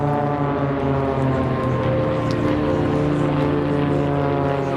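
Loud, steady droning of propeller aerobatic aircraft engines at an airshow, a continuous layered hum with no pauses, close and powerful throughout.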